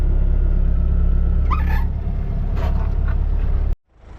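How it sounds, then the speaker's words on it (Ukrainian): A tractor engine works in a foggy field while discing the soil with a roller, giving a loud, steady low rumble up close and a brief rising rev before it cuts off abruptly. "трактор елементарно відбуксовує"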